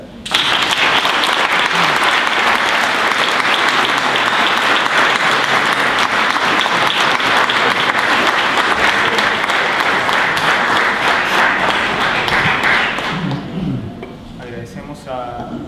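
A book presentation audience on Violeta Parra and Mapuche song breaks into loud, sustained applause, a thick wash of clapping that holds for about thirteen seconds before thinning out, with a voice speaking as it fades.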